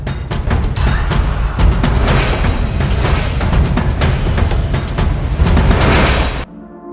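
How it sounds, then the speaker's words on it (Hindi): Big Bang explosion sound effect, a loud continuous roaring rumble full of crackling bursts that sustains for several seconds before cutting off abruptly into a quiet low tail. "भयानक तरीके से विस्फोट हुआ"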